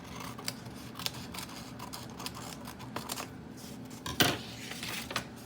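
Scissors snip through folded paper in a second-grade classroom while a pentagon shape is being cut, producing scattered soft clicks and crisp cuts over a steady murmur of room noise, with no talking.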